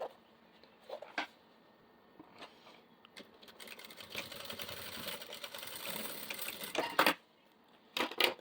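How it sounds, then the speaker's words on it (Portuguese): A sewing machine runs a straight seam in a quiet workroom, with a few short clicks before a steady burst of rapid stitching, then more brief clicks and taps. "E pode passar uma costura bem retinha."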